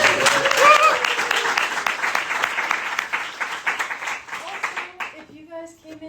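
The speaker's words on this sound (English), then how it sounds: "I think we should give Dr. Thompson a round of applause" Applause from an audience after a talk on practicing like a pro, dense clapping that thins out and fades toward the end, with a few voices and a brief tonal sound near the close.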